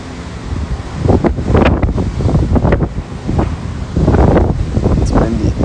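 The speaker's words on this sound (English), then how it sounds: "It's windy." Gusts of wind buffet the microphone in loud, rumbling bursts, rising and falling with no voices heard.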